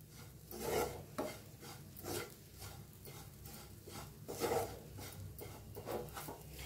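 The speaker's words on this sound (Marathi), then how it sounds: "छान मिक्स करून घेऊया." Spoon stirring and scraping a bitter gourd masala mixed with jaggery in a pan, repeated rasping strokes in an uneven rhythm, close and quiet, no talking.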